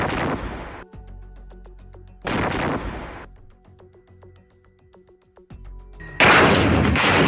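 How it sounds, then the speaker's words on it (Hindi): A tank blowing up in a large blast during fighting in the Israel–Hamas war, heard as loud broadband explosive bursts that return several times with quieter crackling and rumble between them. "इसके कुछ ही सेकंड में टैंक में एक बहुत बड़ा ब्लास्ट होता है और टैंक आग के गोले में तब्दील हो जाता है।"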